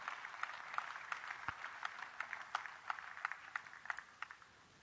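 An audience at a national conclave on natural farming gives Narendra Modi a faint, scattered round of clapping, individual claps audible over a quiet hall.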